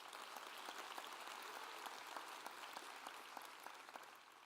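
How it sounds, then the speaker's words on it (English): An audience claps through a school district's State of the Schools address, the applause fairly distant and steady with scattered sharp claps throughout. "Let's give him a round of applause."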